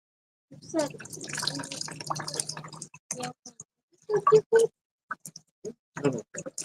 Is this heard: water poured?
yes